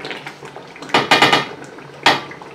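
A lid placed on a cooking pot of stew with fish, a few close metallic clanks and rattles in a quick cluster, followed by one more sharp clink.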